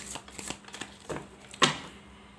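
Tarot cards being shuffled and drawn at close range: a quiet run of light papery taps and flicks, then one sharper snap of a card near the end, with no talking.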